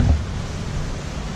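Ocean waves wash around a boat at sea, a steady rushing surge with a heavier swell at the start and wind noise throughout, no voices.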